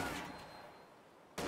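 Bursts of video game machine gun fire crackle in a dense volley at the start, fade briefly into a quieter tail, then erupt again in another sharp burst.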